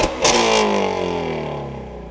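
A 2017 Ford Mustang GT350 V8 exhaust revs up hard at the start, then the engine note winds down and settles into a steady, loud rumbling idle close by.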